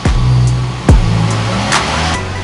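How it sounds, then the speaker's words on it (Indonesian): Car engine held at steady revs during a tune-up carbon clean using a vacuum cleaner, a loud, close, even hum with a couple of sharp transient bursts over the steady tone. "kita harus menahan mobil ini di RPM 2000 selama sekitar 1 menit"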